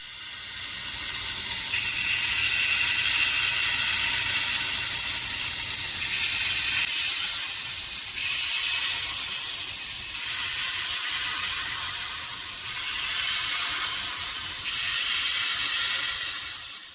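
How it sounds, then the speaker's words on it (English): Batter poured into hot oil in a wedge pan gives a steady, loud hiss and sizzle that runs the whole time, slightly stronger in the first seven seconds, with no talking. "if you listen close, you'll hear it sizzle or fry as it hits that hot oil."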